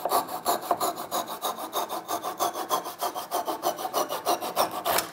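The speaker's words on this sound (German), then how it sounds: "Jetzt schneide ich hier noch den Rundstab ab." A wooden dowel being sawn off by hand, steady rhythmic back-and-forth saw strokes, about four per second, close and fairly loud with no talk.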